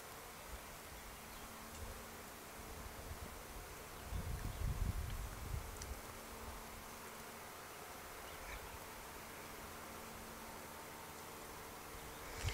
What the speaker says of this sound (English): I'm hearing the sound of the hive increasing, getting louder and louder